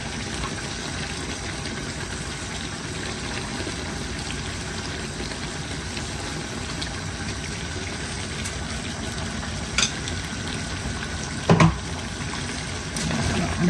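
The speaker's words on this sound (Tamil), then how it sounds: "இப்போ நம்ம இந்த அரைச்சி வச்ச மசாலா பொடியை போடுவோம்" Ground masala powder fries in venison gravy in a pan, giving a steady, even sizzle and bubbling hiss that runs throughout, with a couple of brief clinks near the end.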